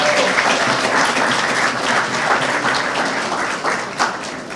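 Steady, dense audience applause at an Atlanta Business League evening event, loud and sustained throughout without pause.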